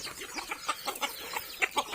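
Chickens on a small Thai farm cluck in short, soft, uneven bursts, several quick calls following one another at close range.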